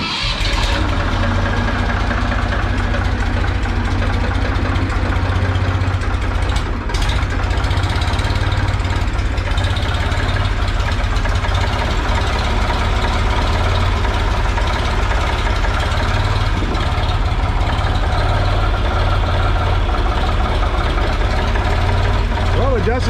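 Ford 2000 tractor engine being started and then idling, a loud, continuous low rumble close by that holds steady for over twenty seconds, with a short break near the start. Voices are also present.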